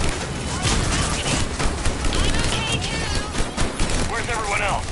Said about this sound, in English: Sniper rifle doesn't get any better.